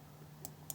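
Computer mouse clicks during a Windows 11 setup, three quick faint clicks near the end of a short quiet stretch.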